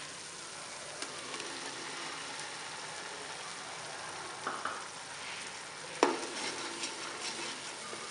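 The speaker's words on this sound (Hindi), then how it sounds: "इसे तकरीबन 2 से 3 मिनट भूनेंगे।" Tomato paste frying with ground masala and turmeric in a pan for an aloo matar gravy, a soft steady sizzle with occasional stirring scrapes, the loudest near the end, no talking.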